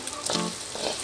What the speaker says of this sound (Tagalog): Ipiprito lang po natin itong beef salpikaw.